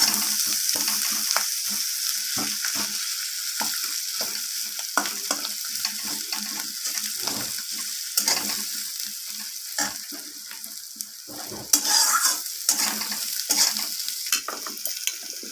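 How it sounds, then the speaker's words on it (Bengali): Onion and fish roe sizzle steadily in hot oil while a utensil scrapes and stirs the pan again and again, close up, with no talking. "আমি তেলের সাথে আর ডিমের সাথে পেঁয়াজটাকে এইভাবে নাড়াচাড়া করে ভেজে নিচ্ছি"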